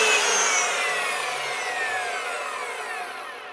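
Cutting a metal part for a Crew Cab S10 chassis front suspension build produces a continuous close, loud power-tool grind with a sweeping whine that slowly fades over a few seconds.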